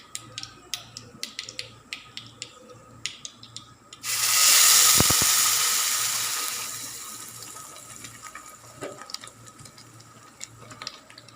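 Scattered sharp pops of mustard seeds crackle in hot coconut oil, then a sudden loud sizzle bursts up as wet ground masala for crab curry hits it and slowly fades.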